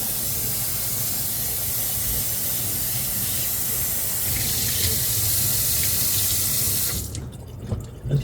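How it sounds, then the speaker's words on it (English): Tap water runs steadily into a kitchen sink while food is rinsed under it for a teriyaki steak dinner, a continuous close hiss and splash that cuts off near the end, leaving a few faint clatters. "We're gonna rinse it off again."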